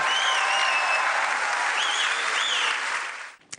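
Steady applause from an audience in a hall, dense and sustained clapping that continues evenly before fading out at the end.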